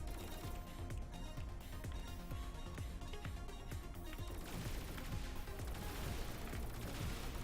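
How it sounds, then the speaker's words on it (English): Rapid gunfire from shooting objects in the video game Velocity 2x, a dense stream of quick repeated shots and small blasts over a continuous electronic music bed, steady and moderately quiet throughout. "guess I get a score for shooting off all this stuff here"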